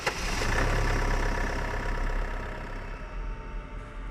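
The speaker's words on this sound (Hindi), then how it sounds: "मैंने इंजन स्टार्ट किया।" A bus engine runs at a steady idle with a deep, rumbling low-end throb, loud at first and then settling slightly quieter, with no voices.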